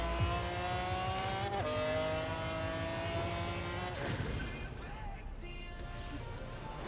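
A McLaren F1 in Forza Horizon 4 revs hard and accelerates through gear changes, its engine whine climbing in pitch, then dropping into a noisier rush as it speeds on.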